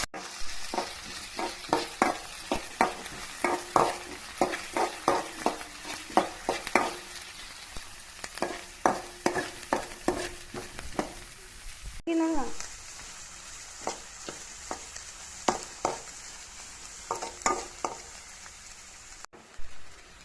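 Mustard seeds, curry leaves, shallots and green chilies frying in hot coconut oil for a Kerala eggplant thoran, crackling and popping with dense irregular spits over a steady sizzle, close and fairly loud, briefly interrupted by a stir midway.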